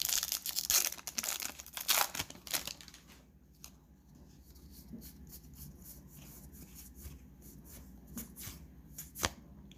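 Magic: The Gathering Commander Legends cards handled close up: papery shuffling, crinkling and sliding in dense bursts at first, then sparser light flicks and taps, with no talking.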